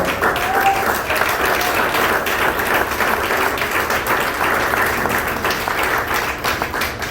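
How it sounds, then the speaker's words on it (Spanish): Sustained applause from a church congregation fills the room as a dense, even wash of many hands clapping, loud and continuous, with faint voices mixed in underneath. "Un aplauso al Señor."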